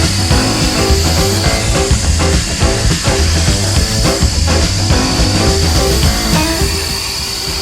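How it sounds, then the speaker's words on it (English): A plasma table cutting 3/4 inch steel plate outdoors at a fabrication shop, giving a loud, steady hiss and roar with layered mechanical hum and irregular crackling. "they're cutting 3/4 of an inch material with a plasma table that's 5 foot or 8 foot by 20 foot"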